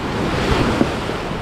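Sea waves wash and break on Nusa Penida beach in Bali, a steady loud roar of surf mixed with wind buffeting the microphone, with no voices.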